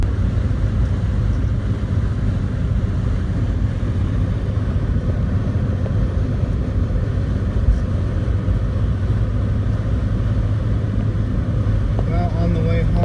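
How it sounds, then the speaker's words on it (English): A 1970 Dodge Dart with a stumble around 25 to 30 mph and loose steering drives along the road, giving a steady, loud low engine and road rumble that fills the cabin throughout. "On the way home with the new 70 Dart."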